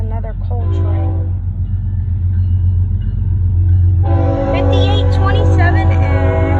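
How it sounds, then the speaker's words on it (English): A coal train passing at Hoxie, a loud close rumble of heavy rail cars with a multi-tone horn sounding at the start and again more strongly near the end, with people talking underneath. "it's another coal train"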